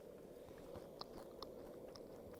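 Crunchy homemade granola, fresh from a skillet, is chewed close up, with a few faint crisp crunches over a steady low hiss.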